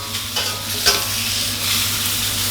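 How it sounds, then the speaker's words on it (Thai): Fresh shrimp stir-fried over high heat in an iron wok, with a steady, bright sizzle and occasional scraping stirs, close and continuous with no talk. "ผัดให้กุ้งเขาโดนความร้อนแป๊บนึงครับ"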